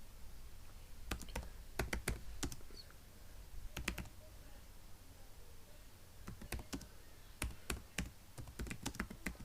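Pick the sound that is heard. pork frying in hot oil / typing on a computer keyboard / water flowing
typing on a computer keyboard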